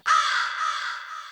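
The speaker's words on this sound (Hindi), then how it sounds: "कौआ," A single crow gives one long, loud caw lasting over a second, close and clear with nothing else around it.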